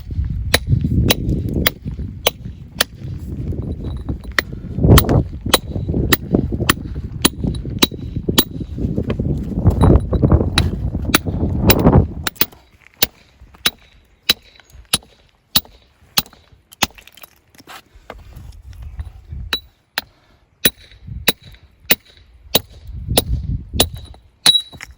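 Steel hammer, a 2-pound stone buster, striking a Rebit PKM25 point to dimple the edge of a stone block, giving a steady run of sharp metallic clinks, close and loud, some over a low rumbling background and then more isolated strikes.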